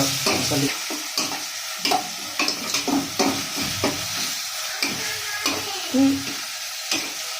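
Spices sizzle in a pan with fried onions for pulao while a spoon scrapes and stirs in an uneven rhythm, close and clear, with no one talking.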